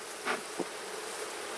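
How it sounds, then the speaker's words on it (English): Honey bees buzz in the bottom box of a hive, a faint, steady hum with a couple of brief, slightly louder passes. "a good number of bees in this bottom box, for sure"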